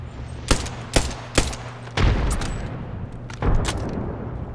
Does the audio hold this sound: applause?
no